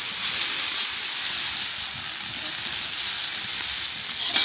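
Duck curry sizzles and fries steadily in a pan while being stirred, a continuous bright hiss with no voices.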